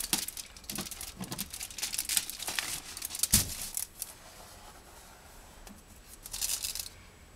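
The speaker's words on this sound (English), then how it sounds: "So I need to pull that tape." Blue masking tape being pulled off the paintwork of a Honda NS250R during restoration, a series of short crackling, tearing strips close by, with quieter pauses in between.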